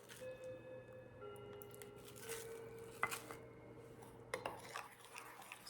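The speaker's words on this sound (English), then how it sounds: "Just gonna give this a stir." A utensil stirs a powdered sugar and peach juice glaze in a bowl, with faint wet squishing and a few light clinks against the side, quiet and close, no talking.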